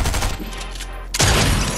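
Combat assault rifle fire in Fortnite, a brief burst of rapid shots up close, then a sudden loud roar of continued gunfire to the end.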